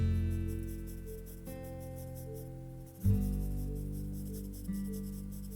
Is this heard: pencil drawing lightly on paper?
yes